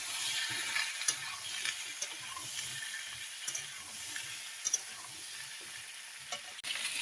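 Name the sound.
potato and papaya frying in oil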